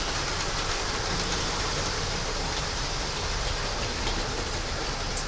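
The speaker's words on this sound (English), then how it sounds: "I'm going to stop the trains" Model trains run continuously in a steady, hissing rumble that fills the space without pause, fairly quiet and with no talk over it.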